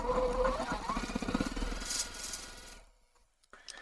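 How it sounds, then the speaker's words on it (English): A sewing machine stitches a straight quilt-block seam with a fast, close, rattling mechanical run that stops abruptly near the end, leaving near silence and a small click. "I can just sew so fast."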